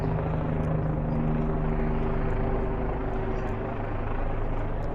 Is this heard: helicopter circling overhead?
yes